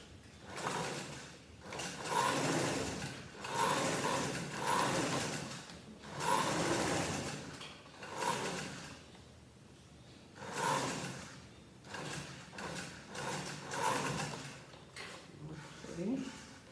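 A sewing machine stitches the seams of shorts in short runs of steady mechanical whirring, stopping and restarting several times while a person talks between and over the bursts.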